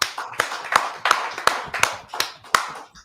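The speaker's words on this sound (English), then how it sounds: "Clap it up, Akim." Clapping at a religious discussion gathering, in slow rhythmic claps roughly every third of a second. Each sharp, close clap decays quickly, forming a steady beat with no talking over it.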